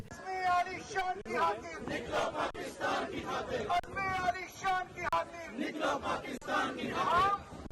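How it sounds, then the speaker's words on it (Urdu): Protesters at a demonstration in Hyde Park, London, chant slogans in loud, rhythmic, shouted bursts, many voices together with brief gaps between phrases, close and strong. "مظاہرین ہائیڈ پارک میں جمع ہو کر نعرے بازی کرتے رہے"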